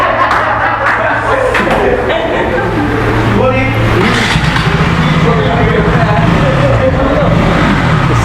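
A 2022 KTM RC 200 motorcycle engine revs up from idle toward about 6000 rpm, loud and close, its pitch climbing and falling while someone talks over it throughout.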